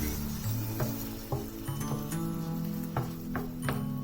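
Tomato paste is stirred into a sizzling egg curry base in a pan: a steady low frying hiss broken by irregular scraping ticks and taps of the spoon, close up and without talk.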